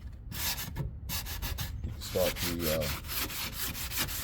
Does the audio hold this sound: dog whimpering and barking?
no